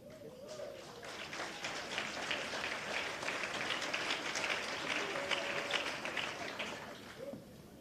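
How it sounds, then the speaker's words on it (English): An audience at a women's recognition awards ceremony breaks into applause for an honoree, building quickly into a dense, steady clapping that holds for several seconds before tapering off at the end. "A round of applause for Patience Nontutuzelo Mbele"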